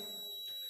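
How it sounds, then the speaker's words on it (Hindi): A digital multimeter's continuity-test beep: a steady, thin, high-pitched electronic tone sounding continuously through the brief moment, fairly faint and with no speech. "आपको बीप की साउंड जो है वो सुनाई दे रही है"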